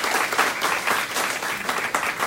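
Audience applause fills a Southeast Volusia Republican Club meeting room, a dense, steady wash of many hands clapping at once that holds at an even level without any talk.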